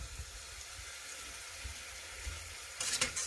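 Kerupuk crackers fry in hot oil with a steady, close sizzle that swells into a louder bubbling burst near the end, with no voices.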